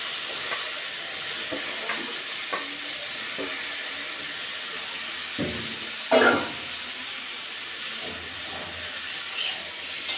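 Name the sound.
frying palta stems, potatoes and green chillies in oil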